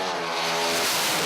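Loud roar of the fastest Mopar drag car passing close by, a dense, rising engine blare over the full moment with no talk.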